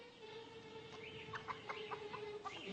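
Chickens cluck and squawk in short bursts close by, several calls in quick succession over a steady background hum.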